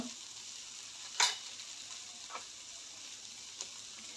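Sun-dried sandge dumplings with turmeric and asafoetida are stirred in a pan over a soft, steady sizzle. A few light spoon clicks break through the quiet frying.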